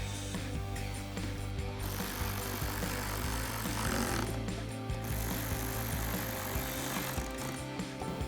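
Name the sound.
ratchet tightening screws on headlight trim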